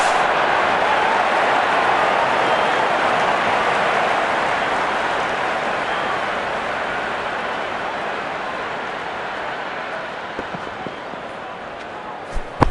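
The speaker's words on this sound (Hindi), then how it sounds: "क्राउड का जज्बा देखने लायक है। अपनी टीम को पूरी ऊर्जा के साथ सपोर्ट कर रहे हैं।" Stadium crowd roars loudly and continuously after a six in a Real Cricket IPL video game match between RR and MI at Guwahati, a dense wash of cheering that fades slightly toward the end.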